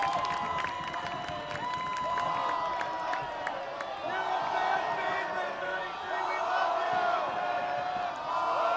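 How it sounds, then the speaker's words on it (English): A crowd at an Oakland Ballers baseball game chants in rhythmic bursts, whooping and cheering with scattered claps, loud and lively across the whole stretch with voices mixed in. "Ball 11 is the new chant from the crowd"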